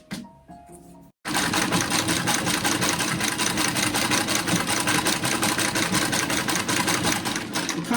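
A Davis Vertical Feed sewing machine stitches continuously after a brief quiet start, its rapid, steady mechanical chatter loud and close for about seven seconds.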